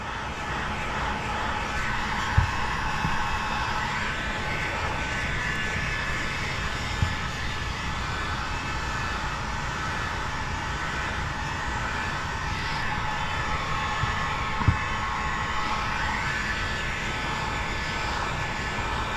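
A heat gun blows a steady, loud whooshing roar while heating the edges of Autobahn I3 ceramic tint film on a 2025 Toyota Camry windshield, continuous throughout with a few faint knocks.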